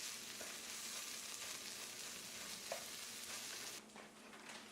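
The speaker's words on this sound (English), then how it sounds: "We'll put those onions in. Throw the okra. We'll go ahead and saute them." Onions and okra sauté in a pan with a constant soft crackling sizzle and occasional stirring scrapes, close but fairly quiet, the sizzle dropping slightly near the end.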